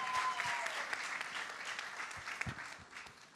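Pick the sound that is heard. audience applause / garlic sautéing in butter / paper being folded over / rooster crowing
audience applause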